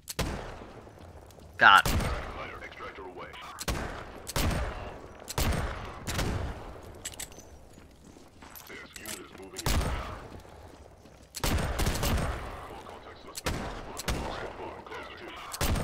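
Sharp, loud gunshots from Garry's Mod realism survival gameplay, fired in irregular single bursts and short volleys, while a voice talks quietly between the shots.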